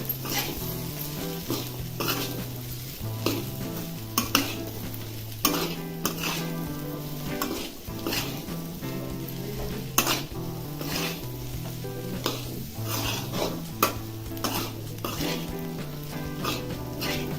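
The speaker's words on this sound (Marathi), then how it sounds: "त्यामध्ये हा भाजलेला मका टाकायचा आता आता मिक्स करून घ्यायचा आहे" Roasted corn is stirred into corn chivda in a pan, with loud, repeated scraping and sizzling strokes against the metal. A tonal hum and background sounds run underneath.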